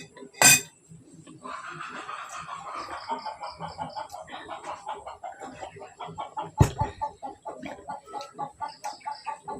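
A black hen clucking in a rapid, rhythmic series close by, with a sharp clatter at the start and another midway.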